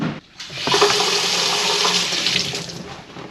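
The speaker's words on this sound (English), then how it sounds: "Then we're gonna wash our hands." Tap water pours steadily into a sink for hand washing, a broad continuous rush that starts after a brief pause and holds at close range without speech.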